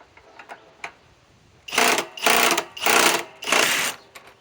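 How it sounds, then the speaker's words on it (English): A Master Force Boost hydraulic impact driver from Menards, fitted with a 2.5 Boost battery, is tested toward 50 foot-pounds. A few light taps come first, then four close, loud bursts of rapid rattling hammering with short gaps between them. "Let's see if the Master Force Boost from MENARDS hydraulic impact driver can do 50 pounds."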